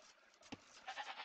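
Sheep in an Age of Empires match give a short, faint bleat over a soft game background, followed by a brief burst of light game noise.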